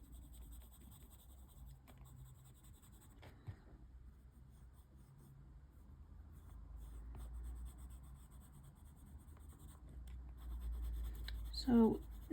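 Polychromos coloured pencil shading on paper, building up a dark skin tone under a jawline: soft, continuous scratchy strokes run steadily throughout beneath a talking voice, with a brief sharper scrape near the end.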